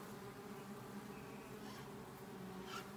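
Honeybee buzzing near beehives, a steady close drone with a flight hum as it takes off from a hand, no talking.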